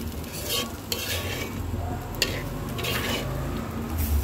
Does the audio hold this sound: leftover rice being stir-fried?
yes